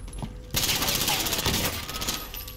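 Dense rapid gunfire in the battle royale game Warzone, a sudden loud continuous burst that starts abruptly and roars for about two seconds before easing off.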